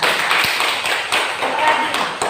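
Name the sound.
applause for a student's answer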